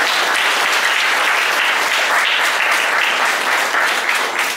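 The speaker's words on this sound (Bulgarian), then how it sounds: "287 лева, аплодисменти." Loud, dense applause from the audience at a charity concert, continuous clapping filling the whole stretch with no pauses.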